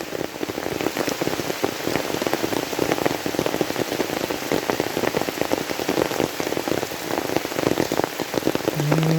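Heavy rain pours steadily and loudly, a dense constant patter of drops on surfaces with no pauses.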